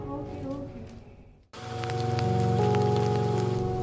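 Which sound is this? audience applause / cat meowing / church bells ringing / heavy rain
heavy rain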